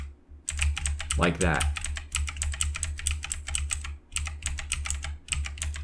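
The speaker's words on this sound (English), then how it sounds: "I'm going to use my arrow keys down and right to move this over" Arrow keys pressed on a computer keyboard in bursts of rapid, close clicking with short pauses between runs, while someone speaks briefly early on.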